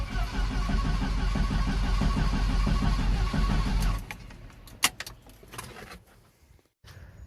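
A Jeep Comanche engine cranks steadily with a rhythmic chugging starter whir for about four seconds, then cuts off, followed by a few faint clicks and small mechanical sounds.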